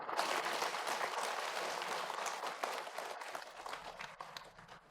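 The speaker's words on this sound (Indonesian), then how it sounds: "Tepuk tangan semua untuk Mbak Siti, boleh?" A studio audience on an Indonesian TV talk show claps for an arriving female guest, steady dense applause filling the room at moderate level and thinning toward the end.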